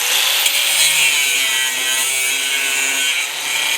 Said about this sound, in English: I'm just going to cut this off using an angle grinder.